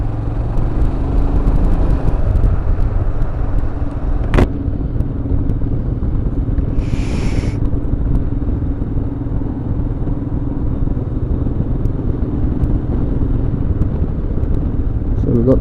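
Royal Enfield Himalayan motorcycles ride along with a steady low engine rumble and road noise, joined by a brief sharp clack and a short higher burst partway through.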